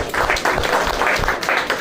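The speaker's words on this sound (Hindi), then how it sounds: "एक बार जोरदार तालियां हो जाए सभी लोगों के लिए।" Loud, steady applause from a seminar crowd, clapping continuously and close.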